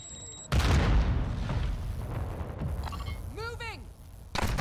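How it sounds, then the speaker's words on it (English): Friendly mortar strike explosions in the shooter DMZ Warzone, with a sudden heavy boom followed by rumbling blasts and a second impact at the end, amid game radio chatter and effects. "Friendly mortar strike on the way."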